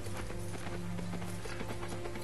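Horse hooves clip-clop steadily in Fable: The Journey, a rhythmic trot that runs close and continuous for the whole stretch, with game ambience and music underneath.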